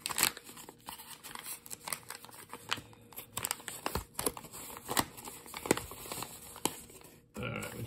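A well-packaged mail envelope is torn open by hand, with close paper ripping and crinkling in uneven bursts and a few sharper tears, ending in a brief pause.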